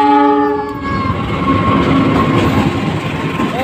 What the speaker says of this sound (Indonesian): Kereta Parayangan